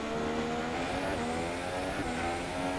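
GP2 race cars on the Bahrain circuit in a racing video game, engine whining at high revs as it accelerates and shifts, loud and steady throughout.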